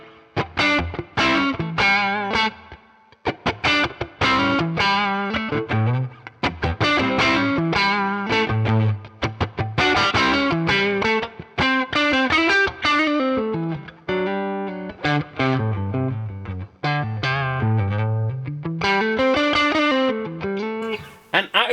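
An electric guitar plays through a TONEX capture of a Deluxe Reverb amp with the amp reverb engaged. Close, gritty phrases of strummed chords and single notes carry a lingering wash of reverb, with no talking.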